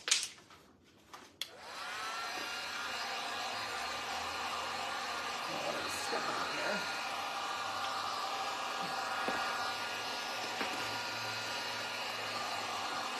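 A hair dryer gives a quick dry to a freshly painted black layer on a wooden Nutcracker porch leaner. It sounds like a steady, close whooshing roar that switches on after a couple of clicks and runs continuously.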